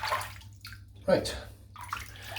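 A razor is rinsed under running water after shaving, with short splashing bursts of water mixed with someone talking close to the microphone.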